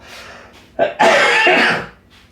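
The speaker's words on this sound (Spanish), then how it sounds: "Hacía rato que tenía ganas de toser y no quería interrumpir el video" A single sharp, close cough bursts out, followed by a brief rasping exhale, with quiet room noise around it.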